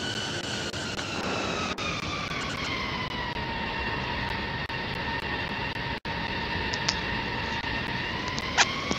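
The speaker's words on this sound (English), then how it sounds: "Alright, we're gonna take off." A plane in the Roblox game Pilot Training Flight Sim takes off, producing a steady engine drone with high whining tones that rise slightly over several seconds, plus occasional faint clicks.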